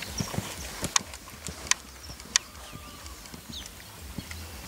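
Hooves of a Lusitano stallion clip-clopping on firm ground as it circles in a serpentine pattern, a few sharp distinct strikes at an easy walking rhythm over a quiet outdoor background.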